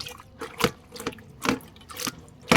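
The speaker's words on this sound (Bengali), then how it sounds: "এগুলো আমি জলে আর কি ধুয়ে দিলাম" Collected vegetable scraps being washed in water in a Bangladeshi village, with close splashes and trickles coming in uneven bursts about every half second, no voices.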